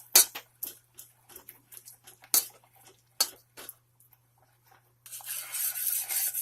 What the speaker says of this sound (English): So keep stirring it.